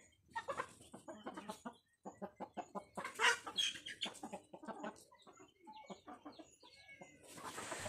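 A chicken near a bamboo trap pecking at paddy, clucking and crowing in repeated close bursts with short pauses, plus a few faint bird chirps in the background.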